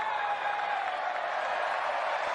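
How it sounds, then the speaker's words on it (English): Baseball spring training crowd at a Phillies versus Tigers game giving a mocking Bronx cheer, a steady mid-level wash of crowd noise without clear breaks, heard briefly. "Little Bronx cheer action."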